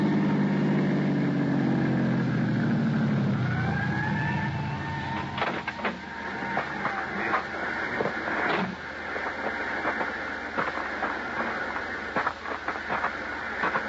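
An ambulance pulls away from the curb, its engine rumble fading over the first seconds while a rising siren-like whine sweeps upward, followed by scattered clicks and knocks.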